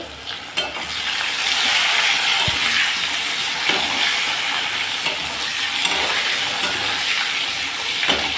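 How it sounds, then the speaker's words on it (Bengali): Potato pieces fry in a pan with cumin seeds and a bay leaf, a loud continuous sizzle and hiss with occasional scraping stirs, close up. "আলুগুলোকে একটু লাল লাল করে ভেজে নিই।"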